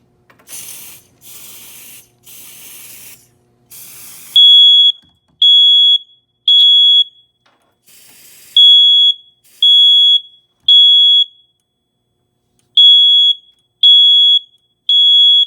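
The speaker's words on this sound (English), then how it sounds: "I'm gonna put both of them into alarm using our canned smoke" A few short hissing bursts of canned smoke spray, then piercing high electronic smoke alarm beeps repeating in a steady on-off rhythm, loud and close.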